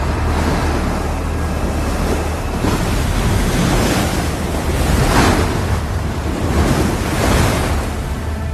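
Rushing floodwater surges through a mine in a rescue scene set at Raniganj, a loud, unbroken roar with swelling waves of force and no voices.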